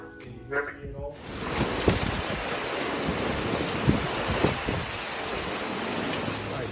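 Steady rain hisses broadly on a rainy day around a 1971 VW Westfalia bus in a garage, a dense continuous wash after brief voice-like radio crackle at the start.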